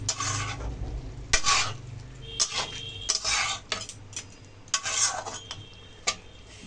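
Chana dal being stirred in a pan with spiced sweet potato, potato, asafoetida and ginger paste, a series of loud scraping spoon strokes and clanks against the pot over a faint sizzle.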